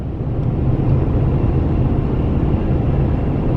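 A car with a faulty transmission, one of four bought at ADESA, drones and rumbles steadily while being driven, a dense low roar with no clear gear changes.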